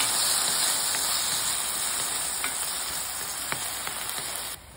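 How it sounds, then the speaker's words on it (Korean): Shrimp and garlic frying in a pan, a steady bright sizzle with a few faint clicks and stirring taps, fading slightly toward the end. "마늘이 조금 익기 시작하면 새우 바로 넣을게요."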